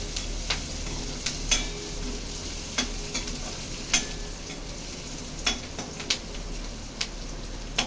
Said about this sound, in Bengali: লবণ দিয়ে পেঁয়াজটা একটু হালকা নাড়াচাড়া করবেন।